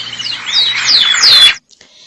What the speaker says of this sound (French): Écoute Bilal, on entend déjà le gazouillement des oiseaux